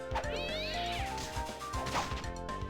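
Cat meows in Castlevania: Dawn of Sorrow, several quick overlapping mewing calls stacked over game music and thumping hits, fairly busy and close.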